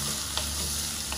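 Prawns cooking in a pan for ginataang hipon with squash and long beans, a steady close sizzle with a faint stirring scrape, no voices.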